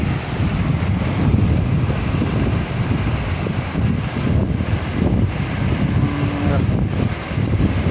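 The Jhumsa Khola stream on the Tinau river near Butwal, Nepal, rushes loudly and steadily close by, a broad churning wash mixed with wind buffeting the microphone.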